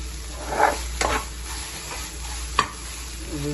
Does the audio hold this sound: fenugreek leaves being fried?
yes